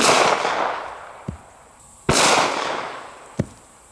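Two sharp, loud .45 ACP shots from a Springfield 1911 pistol firing 230 grain full metal jacket rounds at armor plate outdoors, each followed by a quick metallic impact crack and decaying echo.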